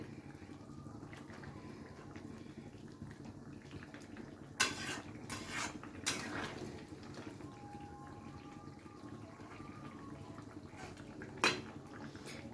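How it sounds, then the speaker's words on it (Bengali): Metal utensil clanks and scrapes against a pan as live prawns are mixed into winter vegetables in a simmering curry, a few sharp knocks over a low steady background hiss. "মাছটাকে দিয়ে খুব ভালো করে সবজির সাথে একবার মিশিয়ে নিচ্ছি।"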